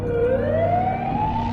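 An ambulance siren arriving at a parking lot, a loud continuous rising wail close by with a steady engine rumble beneath, no voices.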